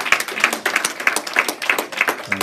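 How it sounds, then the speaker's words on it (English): Congregation clapping in a church during a Sunday sermon, a fairly regular rhythm of individual claps, moderately loud and close, with faint voices underneath. "Put your hands together for the Lord."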